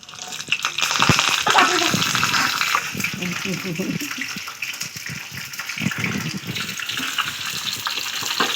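Green chillies and curry leaves dropped into hot oil with mustard seeds for a tadka, sizzling and crackling loudly up close, with a person talking over the spattering.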